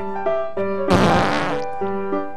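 A single loud, raspy fart bursts out for about half a second in the middle, set against sustained musical tones before and after.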